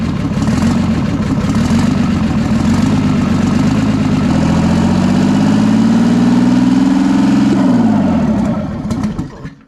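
A 6V53 diesel engine on a Clark forklift runs loud and steady close by, its pitch climbing as the throttle is held partway open, then winding down as the engine is shut off near the end.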